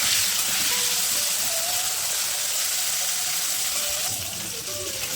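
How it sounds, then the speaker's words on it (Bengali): Peas and beans fry in a pan of hot oil, giving a loud, steady sizzle that runs the whole time, close up, with a faint background tone and a slight drop near the end. "এবারে ভাজি আছে মটরশুঁটি আর বিনসটা ভেজে নিচ্ছি আমি"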